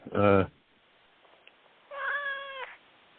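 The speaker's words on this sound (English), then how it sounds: "Is that your cat?" A house cat meows twice in a quiet room, a short bright cry followed after a pause by a longer, drawn-out meow, both close and clear with no talk over them.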